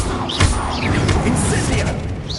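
A fire spell is cast in a video game, with a sharp fiery burst near the start over a dense, continuous bed of crackling game effects.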